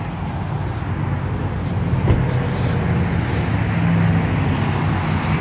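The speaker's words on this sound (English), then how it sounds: "We're right by the freeway, so it's a little bit loud." Constant roar of freeway traffic heard outdoors, a dense, loud wash of passing cars with no breaks.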